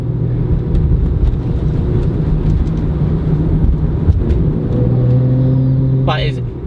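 A tuned BMW 135i with an XHP transmission tune accelerates steadily, its engine note droning and stepping as it shifts up through the gears, heard from inside the car.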